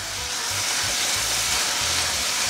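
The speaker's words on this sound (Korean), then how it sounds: "썰어두었던 감자, 양파, 간단한 당근까지 함께 넣어주세요. 그리고는 감자 겉면이 살짝 투명해질 때까지 약 2~3분간 볶아주시는 거예요." Diced potatoes, onion and carrot stir-frying in hot oil for curry, making a steady, even sizzle and hiss that runs throughout with no voices.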